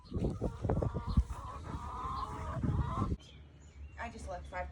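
Chickens that have just jumped a fence cluck faintly under close, continuous talk, with a few higher bird calls near the end once the talking fades.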